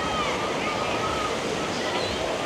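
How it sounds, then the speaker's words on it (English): A water ride at Adventureland amusement park on Long Island flings water around, making a dense, continuous rushing wash like heavy spray and surf, steady and fairly loud throughout. "they're whipping the water all around"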